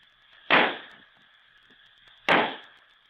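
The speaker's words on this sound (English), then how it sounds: "The fireworks display is just starting." Two sharp Roman candle firework bursts go off about two seconds apart, each a sudden crack that trails off into a brief hiss, set against a faint steady hum.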